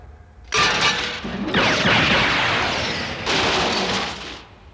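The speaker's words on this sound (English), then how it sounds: "Varsus, calculate the duration of the laser fire." Laser fire in an early-1990s anime film, Cyber City Oedo 808: a loud, sustained burst of blasting and crackling energy discharge that swells, dips briefly, then surges again before cutting off, with no voices over it.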